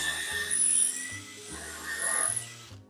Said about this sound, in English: I really want to make sure I bottom out the drill bit appropriately